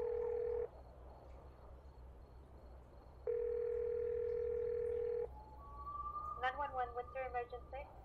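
Phone dial tone inside a video game, placed while calling emergency 911: a steady electronic tone plays in two long bursts with a pause between them, followed by warbling synthetic ringing. Faint background hum sits underneath.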